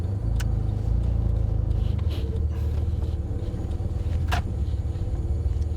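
A Porsche 997 GT3 RS drives along, its engine a steady mid-pitched rumble heard from inside the car, with a brief rise in revs partway through and no talk.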